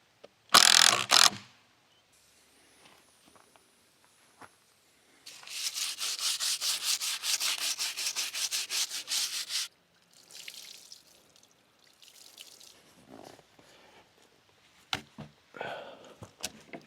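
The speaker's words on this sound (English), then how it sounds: "I know it kind of looks like I'm trying to file it both ways, but I'm really just filing this way" Wood on a log cabin build is hand-filed in one steady rasping stretch of several seconds that is close and fairly loud, with a few scattered handling knocks and scrapes before and after.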